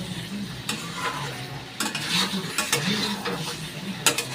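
Chicken curry with fried potatoes being stirred and fried in a wok: a spatula scrapes and knocks against the metal in uneven strokes over a soft sizzle, close up.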